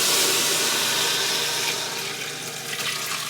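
Chicken stock poured through a strainer into a pot, a steady broadband rush of liquid splashing and draining, loud and close, tapering slightly toward the end with no talking.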